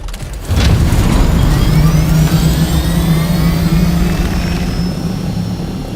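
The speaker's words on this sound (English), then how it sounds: "Give me my chopper." Helicopter in Dune Awakening spooling up close by, a loud steady engine drone with rotor throb and a rising whine that holds for several seconds.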